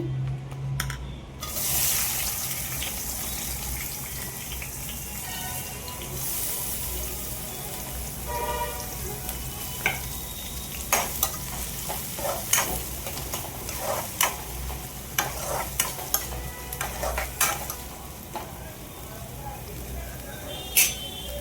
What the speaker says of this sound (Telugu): ఉల్లిగడ్డ పచ్చిమిర్చి వేగుతున్నప్పుడే ఇందులోకి కరివేపాకు వేసుకున్నాం.